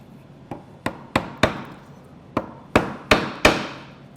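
A mortise chisel struck with a mallet while chopping a through mortise in wood for a three-way joint: about nine sharp, close knocks at an uneven pace, each ringing briefly, with no talking.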